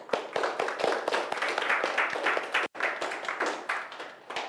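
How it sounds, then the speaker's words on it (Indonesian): A classroom audience claps steadily for the full stretch, a dense, close patter of many hands with no voices over it. "Beri aplaus ya."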